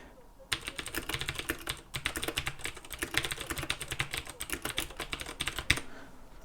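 Rapid clicky typing on a laptop-layout mechanical keyboard with Cherry MX Blue-style switches, a dense, steady patter of sharp keystrokes up close, with brief pauses at the start and near the end.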